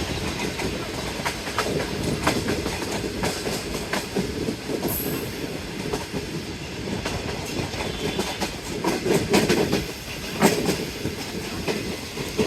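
A Green Line passenger train travels between Khanewal and Raw, its wheels clattering steadily over the rails with rhythmic clicks and a brief high squeal, heard continuously from on board.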